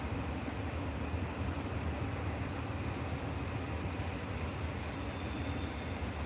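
A train passes at a distance, a steady rumbling roll with faint high wheel whine, continuous and fairly quiet with no talking.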